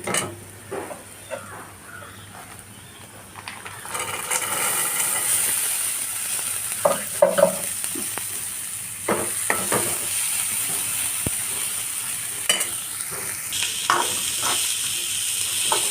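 Dried beans are stir-fried in a pan for a beetroot thoran. After a quiet start, a steady loud sizzle takes over, broken by the scrape and clatter of stirring, with no talking.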